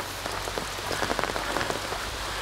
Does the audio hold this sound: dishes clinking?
no